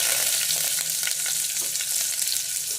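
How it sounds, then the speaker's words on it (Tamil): Curry leaves and onions fry in hot oil in a pan for mutton soup, a steady close-up sizzle with crackling pops throughout and a few faint scraping stirs, no one talking. "கருவேப்பிலை போட்டுக்குவோம், வெங்காயம் போட்டுக்குவோம்."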